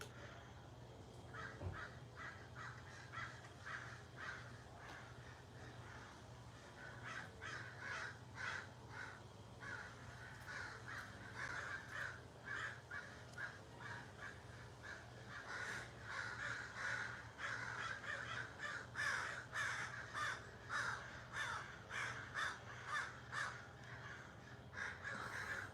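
A murder of crows caws loudly and steadily outdoors, many harsh calls overlapping in dense, repeated bursts near and far, with a low steady hum underneath throughout.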